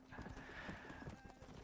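Horse hooves clip-clop steadily with a whinny in the Red Dead Redemption video game, the hoofbeats dense and rhythmic against a faint background.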